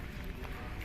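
Footsteps crunching through fresh snow during a heavy snowfall, quiet and close, a short soft crunch over faint background noise.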